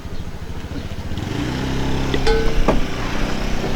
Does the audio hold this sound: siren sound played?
no